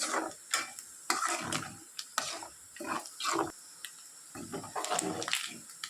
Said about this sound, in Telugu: ఇట్లా వేగాలన్నమాట ఇంకొంచెం వేగాలి ఇంకొంచెం మెరగా రావాలి రొయ్యలు